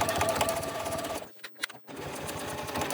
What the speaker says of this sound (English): I will back stitch and then sew straight around